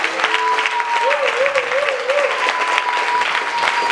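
A church congregation claps together in a dense, steady burst of applause that carries on throughout, with sung or spoken voices faintly mixed in.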